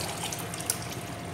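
Water being poured into a sump pit trickles and splashes steadily, a continuous soft liquid hiss with no voices.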